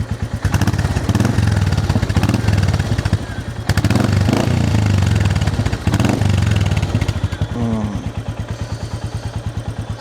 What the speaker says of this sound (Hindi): और एग्जॉस्ट नोट मैं आपको सुना देता हूँ।